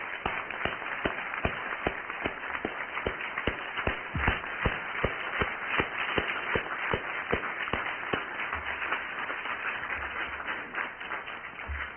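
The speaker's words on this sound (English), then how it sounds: "Can we give them a round of applause?" An audience at an event applauds people called up to the front, a steady wash of clapping with sharp, evenly spaced claps standing out over it and lasting the whole stretch.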